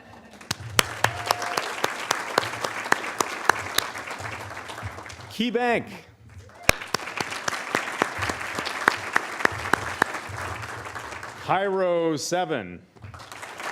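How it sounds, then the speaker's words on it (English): At a small business awards ceremony, the audience breaks into rounds of clapping with scattered sharp individual claps, stopping briefly twice when a voice announces sponsor names. "please do not hold your applause"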